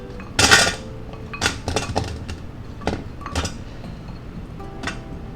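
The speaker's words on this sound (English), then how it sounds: "Yeah, put our carrots in." Raw carrots dropped into a metal cooker basket beside potatoes for a pot roast, a run of clinks and knocks against metal and pans, sharp near impacts spaced unevenly with quiet gaps, no talking.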